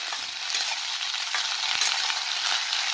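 Food with a little water sizzles and fries in a pan while being stirred slowly, a steady close hiss with soft scraping strokes and no talk.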